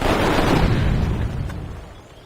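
A cannon attack in the Civilization V video game booms loudly at once and then fades into a rumbling decay over about two seconds, with no talk over it.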